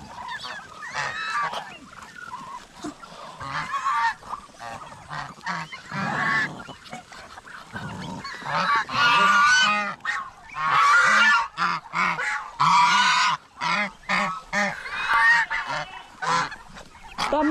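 Ducks and geese honk loudly and repeatedly, with busy overlapping calls close by, growing louder and more insistent partway through, with no talk.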